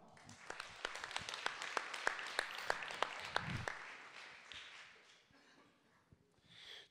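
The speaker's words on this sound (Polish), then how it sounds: "Ogromne brawa." Faint, scattered hand clapping comes from an audience at a foundation event. Distinct individual claps are heard for a few seconds before they thin out and fade away.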